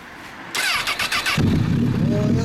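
A Honda CBR600RR motorcycle engine with a Two Brothers exhaust turns over and catches, sputtering briefly before settling into a steady, throaty idle close by.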